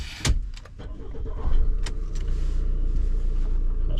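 A Rimor Kilig 5 motorhome from 2026 starts up: a few clicks and clunks, then the engine catches and settles into a steady low idle, close and alone.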